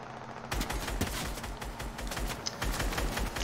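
Rapid bursts of video game gunfire crack in quick, uneven volleys over a low background rumble, fairly close and sustained for several seconds, firing at targets around 50–60 metres away.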